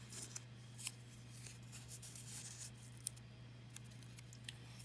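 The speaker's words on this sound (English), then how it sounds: "you're going to cut out 2 squares" Scissors snip through paper to cut out squares for a folded paper dragon, a handful of faint, sharp clicks spaced irregularly over a steady low hum.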